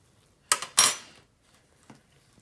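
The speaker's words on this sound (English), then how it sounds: "I like to use a fork just to get it started and then peel it off." A fork scrapes and clicks against cooked pumpkin while peeling away the skin, giving two close bursts of scraping, then a few faint taps, with no talking.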